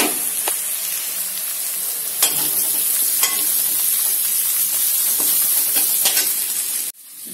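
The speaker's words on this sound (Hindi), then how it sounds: "इसमें हम डाल देते हैं लहसुन, अदरक, मिर्ची जो हमने काट कर रखे हैं उसको भी भून लेते हैं" Onion frying in a pan with garlic, ginger and chili added, for gobhi paratha: a steady, close sizzle with occasional stirring scrapes and pops, ending abruptly.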